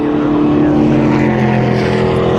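Ginetta racing cars drive through Paddock Hill at Brands Hatch, a loud, sustained engine drone with steady tonal harmonics that fills the whole moment without a break.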